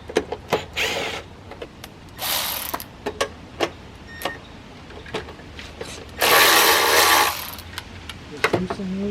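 A ratchet loosens 8mm bolts on a Briggs & Stratton Intek carburetor, giving short bursts of rapid clicking separated by pauses, close and clear, with a few sharp knocks between them.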